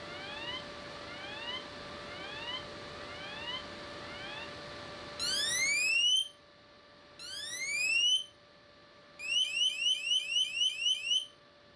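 A Samsung Galaxy Watch Ultra (2025) emergency siren sounds in repeated rising electronic sweeps, first softer, then in louder bursts and a rapid pulsing series of whoops.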